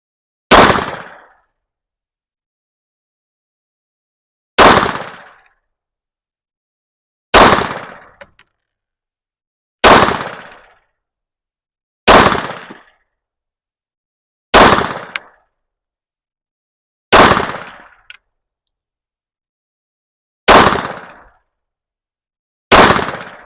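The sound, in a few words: Beretta Cheetah 80x pistol gunshots at range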